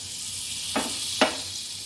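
Butter heats in a hot pan for bread pakora, giving a steady faint hiss with two brief sharp spits about half a second apart, close by.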